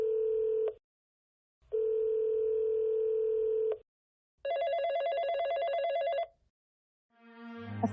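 A telephone rings in three separate bursts: two steady electronic trills, then a brighter warbling ring, each clear and close with short silent gaps between, followed by a brief rustle at the end.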